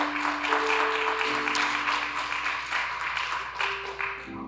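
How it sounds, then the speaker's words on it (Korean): A Korean church congregation gives a long round of applause of thanks and glory to God, steady and full, while held tones of music or singing carry on underneath. "우리 그 아버지 하나님께 감사와 영광의 박수 한번 올려드리도록 하겠습니다."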